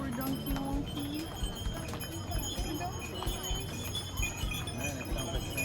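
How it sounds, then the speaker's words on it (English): Donkey hooves clip-clopping on a path in Fira, Santorini, a steady run of light hoof knocks mixed with faint jingling, heard amid busy outdoor street ambience with voices around. "I don't like to ride on the donkeys just because it's so hard on them."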